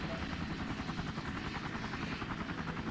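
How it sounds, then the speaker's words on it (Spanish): A helicopter arrives in the video game Emergency 4, a steady rotor drone with rhythmic chopping that holds at a constant level throughout, with no voices over it. "¿De dónde ha salido ese helicóptero?"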